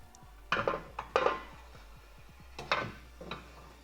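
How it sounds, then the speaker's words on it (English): A metal drain pan is set down onto the bushings of an engine stand during a CR250 engine rebuild, giving a few light clanks and rattles spread over a few seconds in a quiet workshop. "the drain pan just goes underneath the arm right onto these bushings here"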